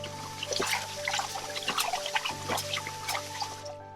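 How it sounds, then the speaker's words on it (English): Vegetables rinsed and drained under water, an irregular trickle and splash with scattered drips and wet squishes, close by, over a low steady hum. "I'll rinse and drain next."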